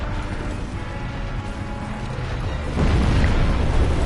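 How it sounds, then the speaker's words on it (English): Booming explosions from a boss fight in Dark Souls Remastered, a continuous rumbling roar with low thuds that swells louder partway through, with no talk over it. "Ah, come on with the stupid explosions again."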